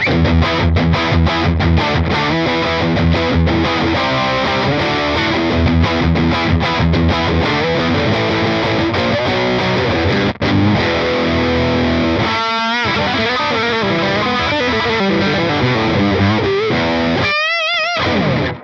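Electric guitar through a Hughes and Kettner Spirit of Rock amp head at medium gain with the sag turned fully down, playing tight, driven, saturated riffs and chords loudly and continuously, ending in a few sliding bends.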